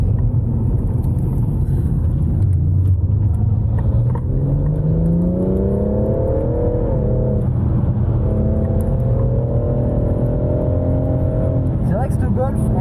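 A Volkswagen Golf on the Magny-Cours circuit, its engine droning and rising in pitch as it accelerates through the gears, loud and steady over a constant rumble, with voices talking over it.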